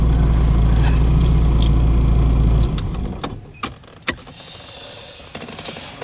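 A Ferrari 308 GTSi engine drones loudly and steadily at close range, then cuts off abruptly, leaving quieter clicks, knocks and mechanical rattles.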